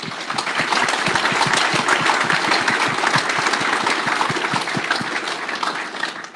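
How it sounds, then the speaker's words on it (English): Sustained applause from an audience at a rally forum event, dense and steady for several seconds before tapering slightly at the end, with a few louder claps standing out. "They all deserve a big round of applause before everybody rushes off."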